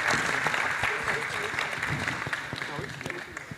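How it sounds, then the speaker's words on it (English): Audience applause at a blog forum panel discussion in Gdańsk, a busy wash of clapping that slowly thins out, with people talking over it. "big word of applause"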